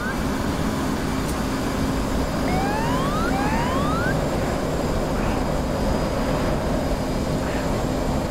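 A jet in the DCS flight simulator streaks low at 400 knots, a steady, unbroken broadband roar with thin whistling tones sweeping upward partway through, loud and continuous throughout.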